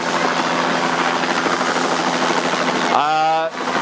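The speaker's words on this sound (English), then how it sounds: "There's a helicopter on the 20 coming down" A loud, steady helicopter roar with rhythmic rotor thumping fills the scene as it lands on a high school football field, over a crowd's noise, with a sharp rising whistle near the end.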